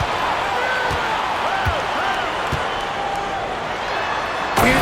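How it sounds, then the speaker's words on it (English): A basketball video game matching the Sacramento Kings against the Miami Heat: steady arena crowd noise runs throughout, with squeaks and bounces, ending in a sudden loud slam of a dunk near the finish. "And it's Evans slamming it down."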